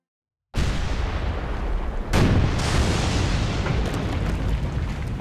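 A massive gas explosion in a coal mine erupts suddenly after a moment of silence, then a second blast surges into a loud, sustained roaring rumble that fills the space with no voices.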